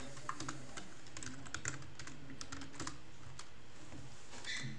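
Rapid irregular typing on a faulty computer keyboard, keys clattering close and steady with a low electrical hum beneath, no voices.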